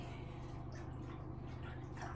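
Hot water running from a hotel bathtub tap, a continuous close splashing hiss with small drips, no talking.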